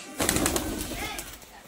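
A male pigeon's short, low cooing call, close by, with faint background noise.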